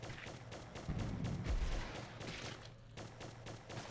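Rapid bursts of rocket fire from a zombie-defense video game, Zombo Buster Rising, crackle and thump in dense overlapping volleys, loud and continuous with a heavier boom midway.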